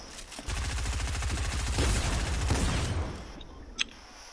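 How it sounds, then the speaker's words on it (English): Rapid pistol gunfire in the video game Fortnite, a dense run of shots close up for about two and a half seconds that then fades, followed by one sharp crack. "Tries to kill people with a pistol."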